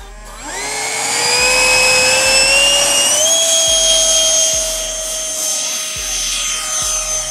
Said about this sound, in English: So here we have the Starmax F5e taking off, and it's a beauty of a jet.